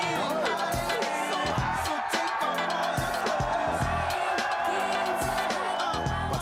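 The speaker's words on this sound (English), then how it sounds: "Which drives the crowd wild." A wet T-shirt contest crowd at a Caribbean party roars and whoops wildly in a dense, continuous wall of cheering, with loud music thumping underneath throughout.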